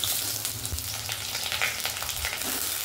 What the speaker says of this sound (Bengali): এই যে ঝিঙে, এইগুলো এবার তেলে দিয়ে দেবে